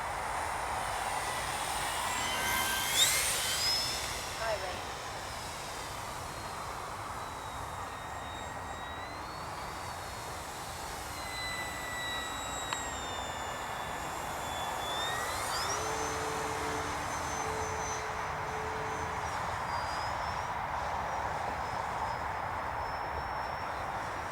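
A small electric model plane running on a 4S battery whines steadily overhead, its pitch rising and falling as it passes and banks, over constant outdoor background noise.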